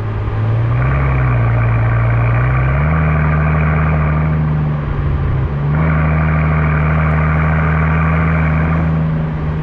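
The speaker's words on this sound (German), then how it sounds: "ein 12-Zylinder-Motor mit dem Sound, der klingt ja auch absolut irre" Idle of a 2005 Mercedes SL 65 AMG with its 6-litre V12 biturbo engine, a loud, steady low rumble up close that rises slightly in pitch partway through, then dips and settles again, with no talking.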